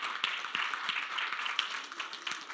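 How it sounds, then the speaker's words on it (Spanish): Faint, fairly sparse clapping from a church congregation during a Spanish-language service, with no voices over it. "dale un aplauso al Señor"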